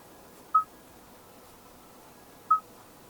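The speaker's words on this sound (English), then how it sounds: "and the phone, we can dial a number" Two short, bright dialing tones from the phone keypad of a 2022 Hyundai IONIQ 5 Plus infotainment screen, about two seconds apart, clear over a faint, steady cabin background.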